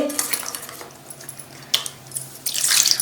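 Water splashes and trickles as tamarind is rinsed by hand in a bowl, with light clinks and a louder swishing burst near the end.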